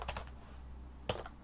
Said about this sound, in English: I'm just going to press Control plus on my keyboard.